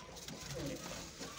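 Pigeons cooing in a small home pigeon setup, a soft low coo heard faintly amid quiet background noise.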